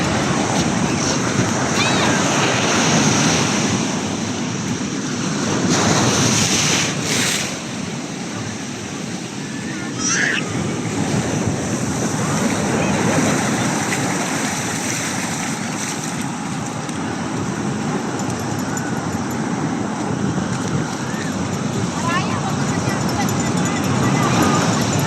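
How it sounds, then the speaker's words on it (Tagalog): Strong sea waves crash and surge continuously along a northern shoreline, a loud, dense roar of surf with wind, steady throughout, with faint voices in the background. "Papakita ko sa inyo yung dagat kung gaano kalakas yung alon."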